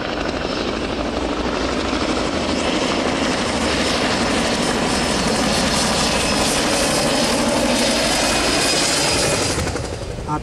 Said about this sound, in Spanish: Ahí va a aterrizar el helicóptero.